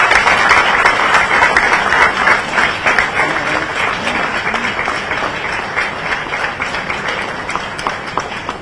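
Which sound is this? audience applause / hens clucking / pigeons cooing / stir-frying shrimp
audience applause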